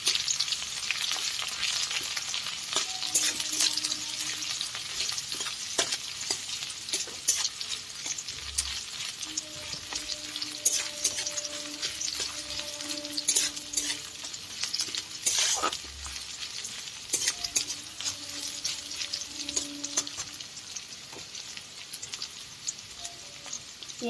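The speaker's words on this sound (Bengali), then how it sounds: "এবার একটু ভালো করে নাড়াচাড়া করব" Chopped onion fries in a pan under constant stirring, a continuous close sizzle broken by repeated spatula scrapes and light clanks against the pan, with no talk.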